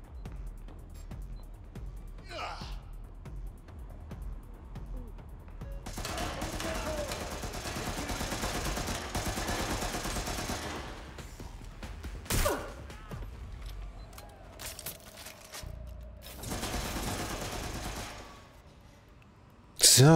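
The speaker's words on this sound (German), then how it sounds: "So, wer ballert denn jetzt noch?" Gunfire in the video game Watch Dogs Legion: bursts of automatic shooting, sustained stretches of loud rapid fire with sharper single cracks, over steady game background noise.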